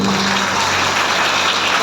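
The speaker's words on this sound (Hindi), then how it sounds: "डॉक्टर लिम सियोजिन के लिए जोरदार ताली होनी चाहिए" An audience at a training session applauds a guest speaker, a dense, steady wash of clapping that fills the whole moment without talk.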